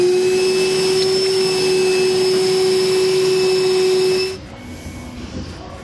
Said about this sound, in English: we'll come back with our vacuum, clean everything up